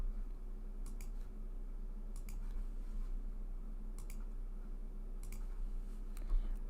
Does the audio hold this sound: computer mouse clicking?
yes